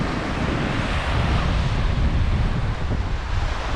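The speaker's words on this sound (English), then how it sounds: "I've got a wind coming in off the beach." Wind blowing in off a beach on the Mornington Peninsula buffets the microphone with a constant, loud low rumble, with surf rolling somewhere underneath and nobody talking.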